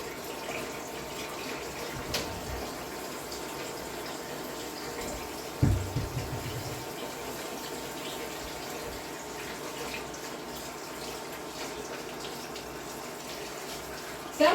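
A kitchen tap runs water in a steady, fairly quiet stream while French crullers are being made, with one brief louder splash midway.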